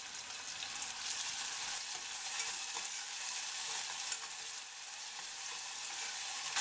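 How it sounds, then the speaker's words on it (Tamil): Chopped onions sizzle and fry steadily in a pan for Indian-style masala pasta, a continuous close crackling hiss with occasional stirring scrapes, no voices. "இந்த வெங்காயம் கொஞ்சம் நேரம் வதங்கட்டும்."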